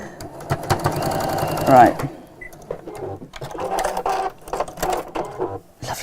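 A foot-pedal-operated sewing machine stitching in close, loud whirring bursts that start and stop, with someone talking over and between the runs.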